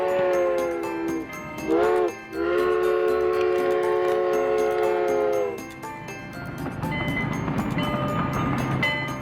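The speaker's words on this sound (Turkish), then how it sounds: "Bak Twilight Sparkle, trenin işte burada" Cartoon train in a Pepee episode sounding a long whistle, with a short break in the middle, then rumbling rolling along the track. Music plays faintly underneath.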